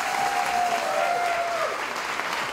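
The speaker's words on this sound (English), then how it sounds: "big round of applause for this girl here" Audience applause at a Dancing With The Stars of Auburn charity event, a full crowd clapping steadily and loudly, with a faint whistle gliding through the first half.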